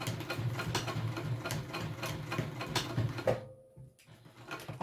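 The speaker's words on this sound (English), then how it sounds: "Right now I'm going to sew it down." A sewing machine runs steadily while stitching a backpack, its fast mechanical chatter going on for about three seconds before stopping abruptly, leaving near silence with a faint tail.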